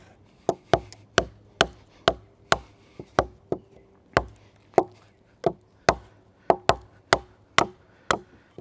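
An Old Hickory Kephart-style knife being batoned through wood: about twenty sharp, evenly spaced woody knocks, close and crisp, each strike ringing briefly in an otherwise quiet outdoor setting.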